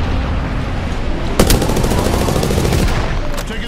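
Gunfire in the video game Apex Legends: one sharp, loud shot cracks out, followed by a dense roar of rapid-fire shooting that continues to the end.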